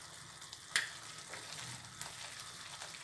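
Paneer gravy with spice powders is mixed in a pan, with a soft steady sizzle and a few light spoon taps and scrapes, fairly quiet and without voices.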